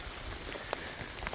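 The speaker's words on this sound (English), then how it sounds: "here comes the rain" Rain begins falling outdoors near a cornfield and woods, a soft steady patter of drops with a few sharper taps on nearby surfaces, quiet and close, with no voices.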